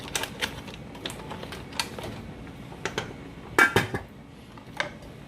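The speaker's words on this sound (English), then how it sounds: "Oh, I'm moving the pot." A pot is shifted on the stove during a seafood boil, making a scattered series of sharp metallic clicks and clanks, with a denser cluster of louder knocks near the end.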